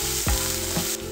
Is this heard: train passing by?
no